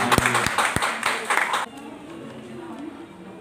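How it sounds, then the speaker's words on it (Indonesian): A wedding congregation claps in applause, a burst of close, uneven handclaps lasting about a second and a half before cutting off abruptly into quiet room tone. "Tepuk tangan buat Tuhan."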